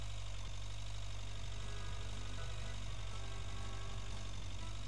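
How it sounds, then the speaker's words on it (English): Tractor engine in the farming video game Agricultural Simulator 2013, a steady loud droning rumble with a low knocking idle character, continuous throughout. "Come on, tractor, can you make, what can you do with this?"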